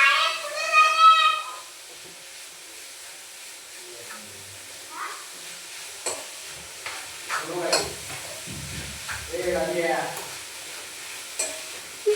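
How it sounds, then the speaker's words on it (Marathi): A roasted coconut mixture with jaggery is stir-fried in a pan, giving soft scraping stirs and a light sizzle in short, intermittent bursts; a brief voice comes at the start, and the scraping grows busier midway. "आता ते छान असं परतून घेते."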